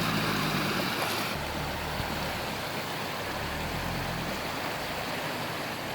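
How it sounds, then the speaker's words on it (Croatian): Floodwater from an overflowing stream rushes across flooded ground in Bosnia, a steady, loud, broadband roar that persists unbroken throughout, with a low rumble underneath. "Ovo isto znači rijeka ovdje, ovo je sve u stvari potok."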